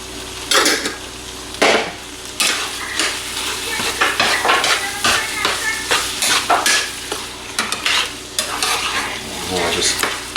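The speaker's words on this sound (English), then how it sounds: "I'll just kind of give it a good stir." Taco casserole mixture stirred in a pan, giving close, irregular scraping and clanking of a utensil against the metal over a light sizzle, in uneven bursts throughout.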